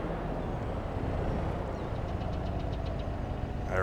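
A farm tractor's engine runs steadily at close range, a continuous low rumbling drone with no clear breaks.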